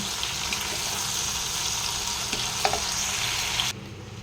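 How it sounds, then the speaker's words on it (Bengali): Prawns frying in hot oil and ghee, a loud continuous hiss and crackle held close, with a few faint clinks, cutting down abruptly near the end; no voices. "চিংড়ি মাছগুলোকে হালকা করে আমি ফ্রাই করে নেব।"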